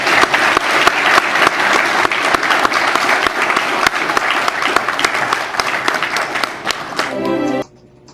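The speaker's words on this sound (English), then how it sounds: "please join me in a round of applause" Loud, dense applause from a large crowd rolls on for about seven seconds and then stops abruptly.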